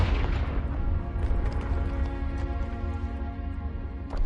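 Confringo blasting spell in Hogwarts Legacy going off as a loud, sustained booming burst with rumbling low end that carries on for several seconds.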